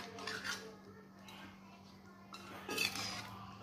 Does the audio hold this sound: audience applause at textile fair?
no